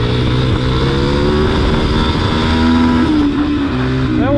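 Pit bike engine revving hard on the throttle, a loud continuous buzzing roar with rising and falling pitch sweeps, close by throughout with no talk.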